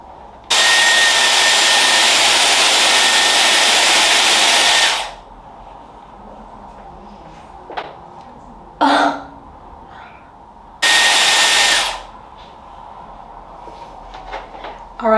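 A Dyson Airwrap hair styler blasts air in a loud, steady rush lasting several seconds, cuts off, then returns for a second shorter burst, with a throat clear and quiet handling noises in the gap between.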